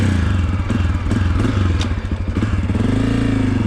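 A Honda CRF250F dirt bike rumbles close by as it is ridden, its engine pulsing steadily with small rises in revs and some clattering over rough ground.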